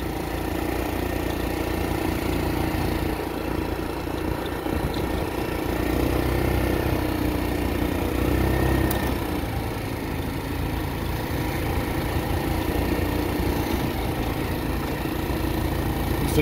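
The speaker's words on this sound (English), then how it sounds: "Just want to give you guys a little sample of how quick the acceleration is on these." A 1985 Yamaha Riva 125cc scooter engine runs steadily in a parking lot, a constant mid-pitched drone holding at even loudness throughout with slight swells, close by and without talk.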